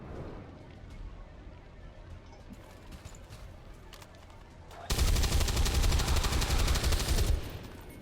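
Automatic gunfire from the turn-based strategy game XCOM 2 fires as one loud, sustained burst of rapid shots lasting about two seconds, breaking through quieter game ambience and low background sound.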